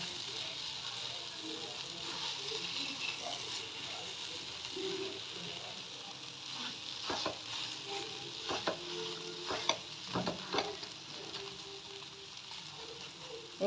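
Mashed eggplant for begun bharta being stirred and mixed in a frying pan, with a steady soft sizzle and scraping stir strokes growing more pronounced midway, close by with no talking.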